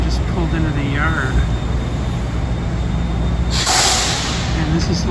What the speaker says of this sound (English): the first Long Island Railroad train just pulled into the yard